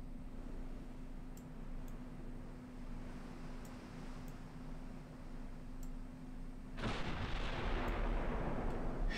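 Enemy warships fire on the player's ships in the naval game Ultimate Admiral Dreadnoughts: a low rumbling barrage, with a loud broad blast of gunfire near the end.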